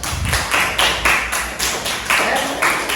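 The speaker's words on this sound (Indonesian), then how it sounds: "silakan tepuk tangan untuk yang sudah kerjakan" Students in a classroom clap for classmates who have just presented, a few bursts of fairly close, loud hand claps with thumps, some pauses between groups, and no talking.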